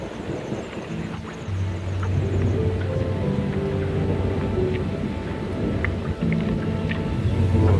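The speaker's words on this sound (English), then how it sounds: "just heard thunder" Thunder during a thunderstorm heard from a small sailing dinghy, a low continuous rumble rolling under rain patter and wind noise for several seconds.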